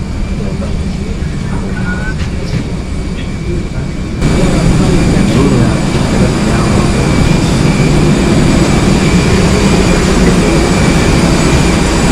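A yellow Scoot airliner sits at the gate during boarding, its steady broadband jet engine roar swelling louder partway through and holding as a continuous near rumble.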